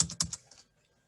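A brief flurry of a few quick keystrokes on a computer keyboard while a C program is written, close and crisp, then fading to silence.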